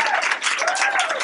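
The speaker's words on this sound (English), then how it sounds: "Everybody in the cafe applauds." Cafe patrons break into applause together, a dense, steady wash of clapping filling the room with a faint voice threaded through it.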